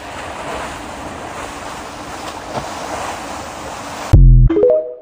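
Ocean waves and surf in the Indian Ocean give a steady, broad roar with wind noise for about four seconds, loud and close, then cut off abruptly into a short burst of unrelated tones.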